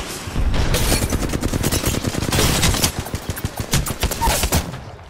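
Rapid gunfire in an online multiplayer shooter match, loud and near, with dense strings of shots and bursts running almost continuously, a brief lull near the end.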